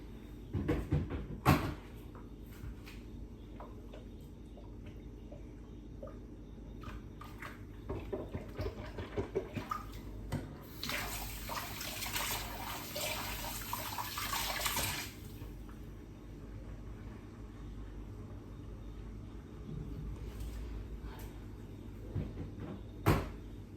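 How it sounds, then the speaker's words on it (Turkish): Dishes are washed by hand at a kitchen sink, with running tap water hissing for a few seconds amid clinks and knocks of plates and cupboard sounds, with no talking. "Bunları da böyle elimde yıkayacağım."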